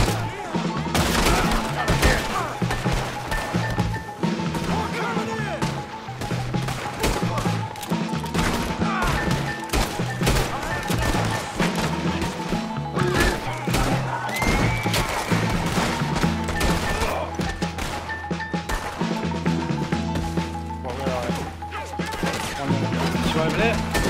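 Dense, rapid gunfire from Red Dead Redemption 2 crackles almost nonstop, with shots piling on each other over a tonal background and occasional heavier thuds.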